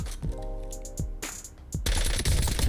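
Shots from a scoped and unscoped weapon in a shooter video game, fired in single semi-automatic bursts: a few sharp, loud reports spaced apart, then a denser run of rapid fire at the end.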